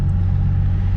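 Supercharged 3.7-litre Mustang engine pulling in third gear from low speed, a loud, steady low rumble with a constant droning tone and no voices, cut short after about a second.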